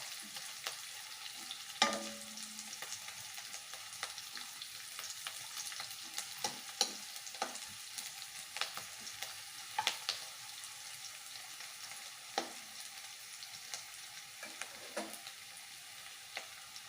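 Onions frying in a pan for vermicelli upma, a steady broadband sizzle running throughout with scattered sharp crackles and pops, fairly quiet and close, no voices.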